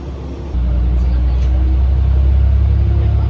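A JR Etsumi-Hoku Line local train pulls away from Echizen-Ono station, and a loud low engine rumble swells abruptly and holds steady as it departs, heard from inside the car.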